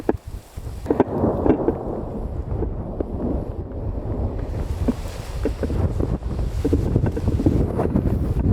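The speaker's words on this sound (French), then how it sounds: "Oh là, le vent se lève." Strong storm wind gusting and roaring steadily into a microphone outdoors, a constant loud rush with rumbling low buffeting throughout.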